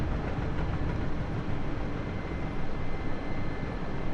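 A T-64 tank's troubled five-cylinder engine strains in a combat video game, giving a loud, steady, dense roar that carries on without a break and with no talking over it.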